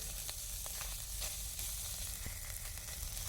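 Ginger-cumin paste hits hot oil and sizzles in a low, even crackle with a few sharp pops as it is stirred. The sound stays soft and continuous throughout.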